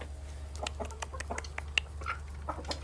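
Chickens kept alongside goats make soft, scattered clucks and short calls in a quiet farm pen, heard as a string of faint, irregular sounds over low background rumble; no talking.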